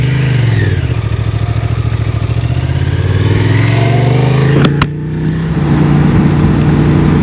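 A Honda Transalp motorcycle accelerates toward 55 mph on an open road. The engine note holds loud and steady, then shifts briefly near the middle and continues with a strong low drone under wind noise.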